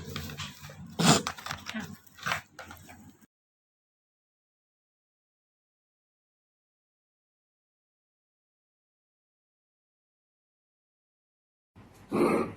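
A stray disabled dog from a rescue foundation in Ban Fang, Khon Kaen whimpers while being bathed and groomed. A short run of close whimpers and yelps opens the clip, then comes a long silence, then a brief final burst.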